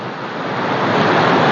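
Ocean waves wash onto a beach in a close, loud, rushing surge that builds steadily over a brief moment, with no talking.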